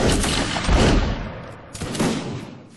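Musket volleys in the Mount & Blade Napoleonic Wars video game: two rolling bursts of overlapping gunfire, loud and close, the second slightly weaker, with no talk.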